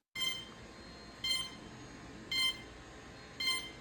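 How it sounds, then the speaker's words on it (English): Electronic speed controllers on a prototype lift drone emit repeated short calibration beeps, four evenly spaced high-pitched tones about a second apart over a steady background hum. "I put the throttle in the up position and wait for the first beep"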